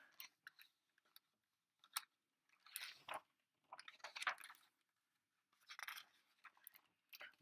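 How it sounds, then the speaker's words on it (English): An alligator munching and chewing food: quiet, close wet crunching and squishing bites in irregular bursts separated by short silences. "Munch, munch, munch."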